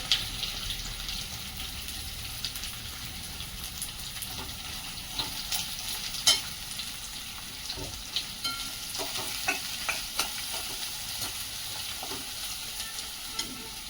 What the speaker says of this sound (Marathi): कांदा आपल्याला जास्त लाल होईपर्यंत तळायचा नाही, फक्त सॉफ्ट होईपर्यंत भाजून घ्यायचा आहे